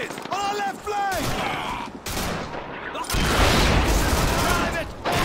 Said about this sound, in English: Private, open fire!